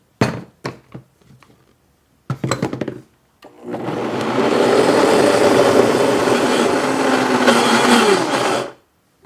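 A countertop blender whirs a mesquite-powder mixture for protein bars, starting with a few short pulses and clunks, then running loud and steady for about five seconds before cutting off.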